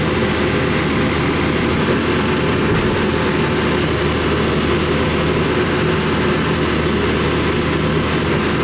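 A John Deere 310SL backhoe runs with its hydraulics straining as the boom is raised, a loud, steady, broadband engine roar with a low rumble that holds without pause throughout.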